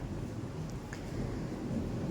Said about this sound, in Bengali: দেখো কি পরিমাণে মেঘ ডাকছে,